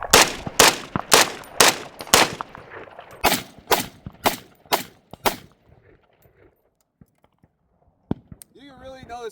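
Rhodesian FN FAL (R-1) rifle fired on a range, a quick string of loud, sharp reports with ringing tails, followed by quiet and a few faint clinks.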